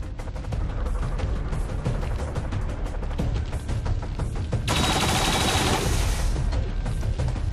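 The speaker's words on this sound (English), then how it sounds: "Taking heavy fire!" Continuous heavy gunfire fills a firefight in the video game XCOM 2, dense overlapping bursts loud and close throughout, swelling into a brighter, harsher burst of fire near the end.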